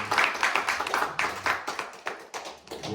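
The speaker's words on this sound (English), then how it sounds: "another round of applause for all" Applause from a small audience at a house concert where children performed, a steady patter of hand claps lasting about three seconds, fairly close and moderately loud with no speech over it.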